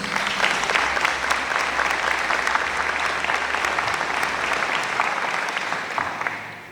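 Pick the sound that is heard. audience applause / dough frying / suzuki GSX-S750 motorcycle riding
audience applause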